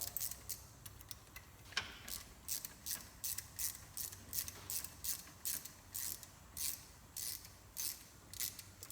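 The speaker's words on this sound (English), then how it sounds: "so you got T25. Take these two bolts out." T25 ratchet turning out brake caliper bolts on a Can-Am Defender side-by-side gives a steady run of quick, crisp clicking bursts, close and fairly quiet, repeating about once a second.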